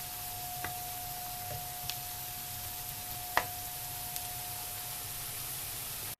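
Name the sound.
frying food till golden brown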